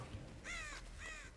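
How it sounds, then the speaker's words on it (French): A crow in the Dead by Daylight horror game gives two harsh, close caws in quick succession. "Corbeau! Corbeau!"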